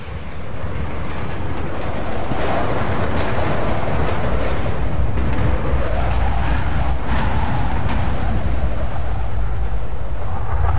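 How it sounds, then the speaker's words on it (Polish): A helicopter flies overhead in Max Payne, its loud, steady rotor roar and engine drone continuing unbroken throughout, with slight swells in intensity. "Leci helikopter!"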